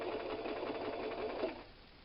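A sewing machine stitching together the pieces of a Christmas tree quilt block, a steady close whirring run that slows and fades near the end, with no talking.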